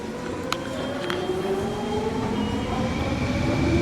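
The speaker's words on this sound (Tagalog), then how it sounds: "So, ito na yung train station." Train at a station in Vancouver: a steady rumbling hum with a sustained tonal whine, two faint clicks early on, no voices.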